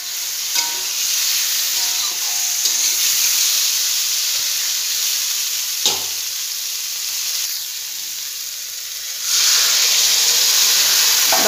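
Fried potatoes and cauliflower sizzle loudly in a hot pan as they are stirred for a fish curry, a steady close hiss with occasional scrapes that swells briefly louder near the end.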